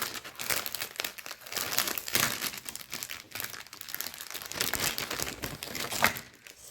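Plastic packaging and a zip-lock bag holding a cross-stitch kit crinkle and rustle steadily as they are handled and opened, with one sharper crackle near the end and no talking.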